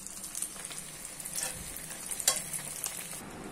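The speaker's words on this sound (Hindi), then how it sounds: "जब तक वहाँ फिश रेडी फ्राई हो रहा है" Fish fries in a pan in a small home kitchen, giving a steady, fairly quiet sizzle with occasional brighter crackles and no talking.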